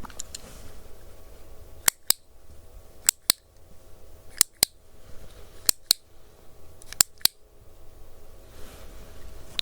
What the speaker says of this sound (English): tell me how many clicks you hear